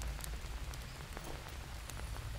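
Rain falls steadily in the jungle survival video game Green Hell, a dense, even patter of drops on surfaces with no voices over it.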